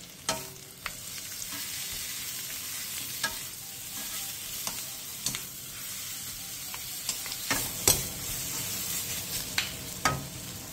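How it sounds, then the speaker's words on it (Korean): Rehydrated dried zucchini strips with minced garlic and salt are stir-fried over high heat in an oiled pan: a continuous crackling sizzle broken by frequent scraping stirs, close and clear, with no talking. "팬에 기름을 두른 뒤 호박꼬지와 다진 마늘 1스푼, 소금 1티스푼을 넣고 센 불에서 2분에서 3분 정도 볶아주세요."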